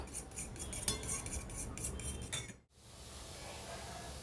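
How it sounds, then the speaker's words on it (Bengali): An egg is whisked in a bowl, with quick, rhythmic clinking of utensil against the dish, close and quiet, stopping abruptly partway and followed by faint background hiss. "এবার ডিমটাকে ফেটিয়ে নেব"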